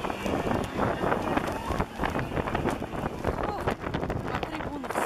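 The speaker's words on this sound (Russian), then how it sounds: "Какой ветер страшный!" Strong wind buffets the microphone in a constant roaring gust at an Immortal Regiment march near stands, with faint voices and crowd noise mixed underneath.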